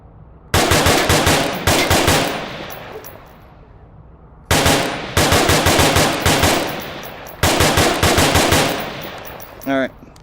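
Rifle gunfire in an Oculus Rift VR shooting game: three loud, rapid automatic bursts a few seconds apart, each a tight string of sharp shots, followed by a brief mechanical rattle.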